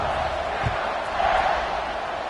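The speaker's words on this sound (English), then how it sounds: "this crowd is buzzing after that last score" Stadium crowd at a college football game between USDA and Texas Tech keeps up a loud, steady buzz of voices and cheering before a kickoff, with a brief thump partway through.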